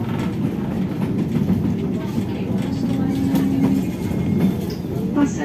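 A SuperVia express commuter train from Central do Brasil toward Japeri rumbles steadily from inside a carriage, with a low continuous roll and faint rail clatter, while a recorded announcement voice speaks over it.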